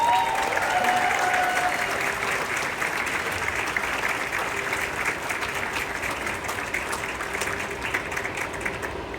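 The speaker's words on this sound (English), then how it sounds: "So go ahead and clap it up for" A graduation ceremony audience applauds, dense sustained clapping that stays loud and even throughout, with brief voices faint beneath it.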